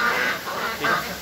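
Muscovy ducks quack in short, loud bursts nearby, two or three calls in quick succession.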